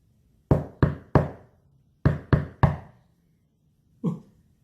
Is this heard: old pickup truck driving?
no